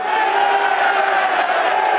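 A loud rugby stadium crowd at a Top 14 match between La Rochelle and Racing 92 roars in a sustained, swelling cheer as a possible try is reviewed, with no break in the noise.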